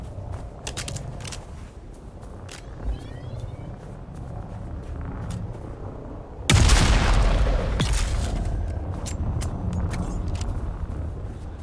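Gunshots from the Dune: Awakening video game, a sudden loud burst of gunfire and impacts cutting through a steady background ambience partway in, then continuing in a dense rumble.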